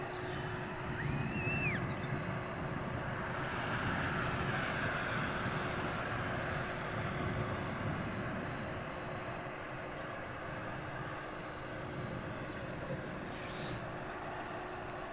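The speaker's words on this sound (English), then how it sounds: "Taxi lights are on for this jumbo jet." A jumbo jet freighter taxiing at London Heathrow gives a steady, distant engine roar and whine over broad background rumble, staying even throughout with a few faint chirps near the start.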